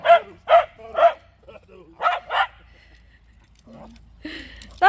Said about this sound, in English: That's naughty barking.